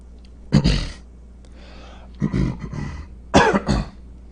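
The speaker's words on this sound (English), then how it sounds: "Thank you for bearing with my coughing." Three separate bursts of coughing, close and fairly loud, spaced a second or two apart with quiet between them.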